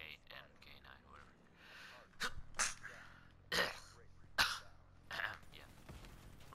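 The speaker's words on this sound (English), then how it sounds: "Sneezed in the friggin' mic." A sharp sneeze bursts straight into a microphone during a Call of Duty: Black Ops 3 session, with a few other breathy sniffs and throat noises around it, loud and close.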